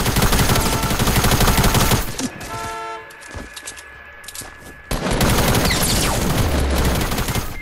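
Sustained automatic gunfire from a video game shootout roars loud and close, breaks off into a quieter stretch with tonal beeps, then resumes as heavy continuous firing.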